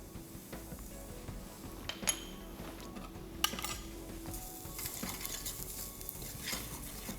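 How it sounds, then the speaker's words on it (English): Spices, including coriander powder, red chili and salt, sautéed and stirred in a pan over moderate heat for a prawn curry, a soft steady sizzle with occasional sharp utensil clinks against the pan. "Saute it all together. Just mix the spices"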